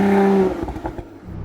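A sports car engine, an Audi RS5 or BMW M3, holds a high rev briefly near the microphone before the revs drop off with crackling and popping.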